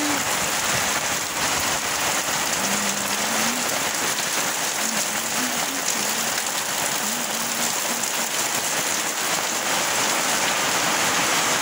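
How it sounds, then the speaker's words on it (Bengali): Heavy rain pours down in Malda town in a dense, constant roar, loud and unbroken, with a faint voice murmuring underneath. "ওই সর্বনাশ কি বৃষ্টি।"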